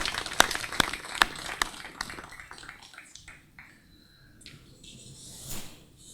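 At a police passing-out ceremony for public order management trainees, a handful of slow, distinct hand claps ring out at first, then the clapping thins and fades into quiet room tone.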